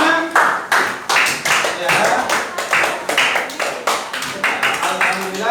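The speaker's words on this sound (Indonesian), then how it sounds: "Ya, ayo, tepuk tangan semuanya." A class of students clapping their hands together in a classroom, with loud, rhythmic bursts of group claps repeating close by. A teacher's voice is heard briefly.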